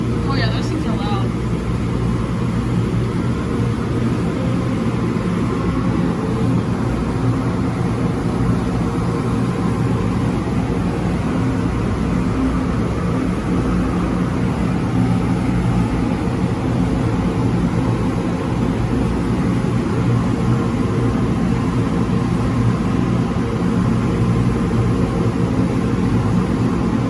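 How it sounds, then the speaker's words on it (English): Old Hanna Sherman blowers in an automatic car wash, top and side units, run as a loud, steady, close roar of rushing air without pause, with a voice talking over it. "We have the really old Hanna Sherman blowers."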